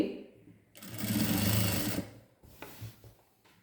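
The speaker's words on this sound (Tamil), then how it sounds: "லாங் ஸ்டிச் போடுறேன் இப்படியே" Sewing machine running long stitches on a lining skirt (pavadai), a close, steady mechanical whir for about a second and a half before slowing, followed by faint handling noises.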